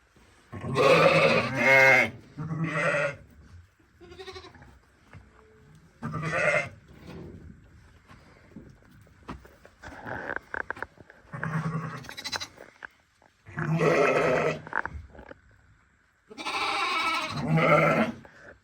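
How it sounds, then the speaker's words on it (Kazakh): Hissar-Arashan breed lambs born in 2023 bleat repeatedly in loud, close bursts, several overlapping cries with short quiet gaps between them. "қозылар. 2023-тің төлдері."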